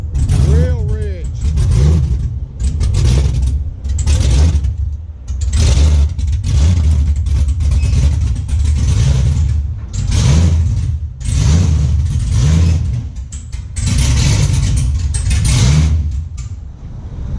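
An LS-swapped Chevy Nova running very rich revs again and again in loud, close bursts, each rev rising then falling back to a rough idle, with people talking between the blips.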